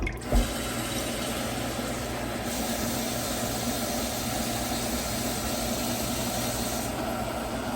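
About 8 cups of water pour steadily into a pot, a continuous loud rushing splash that carries on without pause.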